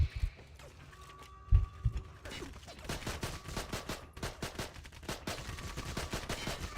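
Assault rifle gunfire in Medal of Honor Heroes 2, starting with mechanical clicks and a weapon handling thump, then sustained rapid automatic bursts of sharp shots, moderately loud and continuous through the second half; no talking.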